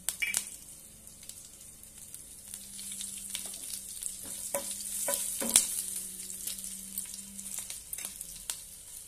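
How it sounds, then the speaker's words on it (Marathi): Cumin and mustard seeds sizzle faintly in hot oil with a soft, steady crackle, joined by a few sharper pops and a brief clink, all fairly quiet and close. "आता यामध्ये आपण जिरे आणि मोहरी घालूया।"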